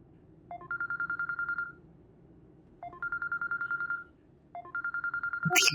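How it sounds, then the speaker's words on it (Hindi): A telephone rings in a home scene of a Pakistani TV drama, sounding three evenly spaced bursts of rapid electronic trilling, each about a second long with short pauses between them, clear and close. "अदील का फोन इस वक्त"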